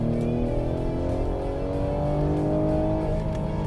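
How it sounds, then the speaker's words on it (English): A 2021 Ford Explorer ST downshifts and pulls hard from third through fifth gear, its engine droning steadily with rising revs, heard from inside the cabin and continuous throughout. "I'm going to give you a quick downshift and do a little pull."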